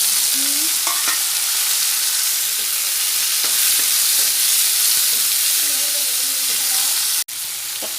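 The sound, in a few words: tomatoes frying in a pan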